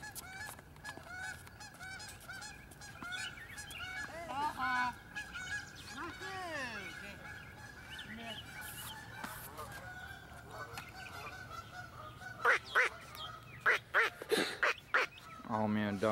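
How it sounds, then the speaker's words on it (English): Ducks quacking and honking outdoors near a tennis court, repeated calls from a moderate distance that grow louder in a burst toward the end, with people talking at times. "I hear the ducks, where they at?"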